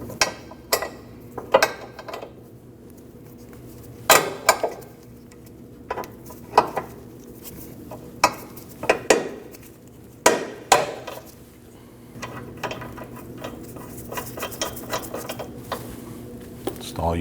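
Two nuts being tightened on a new front sway bar link on a 2003-2008 Subaru Forester, with a 14mm nut held on the inside: sharp metallic clanks and ratchet clicks at irregular intervals, close, over a low steady hum.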